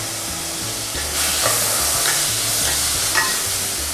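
Ingredients sizzle and fry in a pan while a spoon stirs them in steady scraping strokes, a continuous close hiss for a chicken breast dish flavored with lemon.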